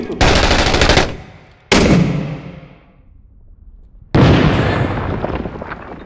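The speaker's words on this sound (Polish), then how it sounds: "Rzucam granat od razu, rzucam granat" Loud, close combat bursts in a shooter game: a rattling volley, then a heavy blast that rumbles away, a lull, and another sustained burst of gunfire and explosion noise.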